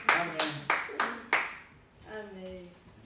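Several sharp claps from a church congregation spaced out at a steady pace, then a voice begins speaking after them.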